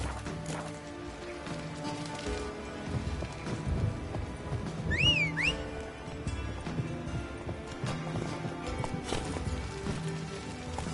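Roach, a horse in The Witcher 3 Wild Hunt on PS4 Pro, moving at speed with rhythmic hoofbeats and a brief whinny midway, mixed with ambient game sound, fairly soft and unaccompanied by speech.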